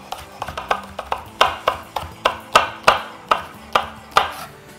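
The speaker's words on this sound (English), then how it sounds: "just take our chef's knife and we just want to cut these into rounds" A chef's knife slices leeks into rounds on a cutting surface, with about a dozen crisp, evenly spaced chops close by, each a sharp knock with a short tail, with no voices.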